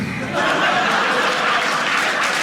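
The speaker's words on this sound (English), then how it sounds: "Give a round of applause for majoring in lying." Comedy-club audience applauding, a steady loud wash of clapping with some laughter mixed in, rising just after the start and holding to the end.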